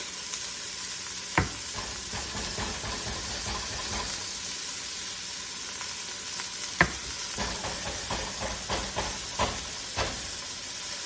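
Cumin and tomato paste sizzle in a hot pot for a Greek stew, a loud continuous hissing fry broken by sharp scrapes and taps of a spoon stirring against the pan.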